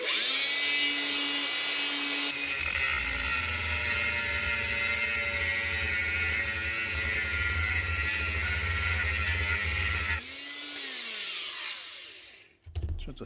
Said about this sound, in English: Go with the grinder instead.